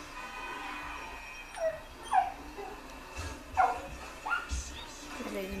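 Dogs in the video game GTA 5 bark and whimper in a few short yips and whines, scattered over steady in-game background noise. A player talks at the same time.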